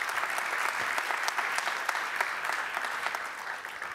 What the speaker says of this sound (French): qu'on peut accueillir, qu'on peut applaudir